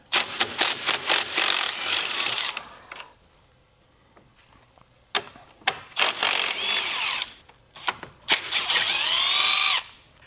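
A power driver removes 10mm bolts and screws from the front grill of a 2025 Jeep Grand Cherokee, with short bursts of whirring and ratcheting close by, separated by brief pauses and small clanks of handling.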